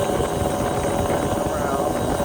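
A 1988 Yamaha DT50LC two-stroke motorcycle engine warming up around 5,000 RPM, a loud, close, constant buzzing drone with no break.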